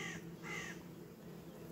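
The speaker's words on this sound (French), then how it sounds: "Le corbeau." A crow caws twice near beehives in an apiary, two harsh calls in quick succession sounding from a moderate distance, then faint outdoor ambience.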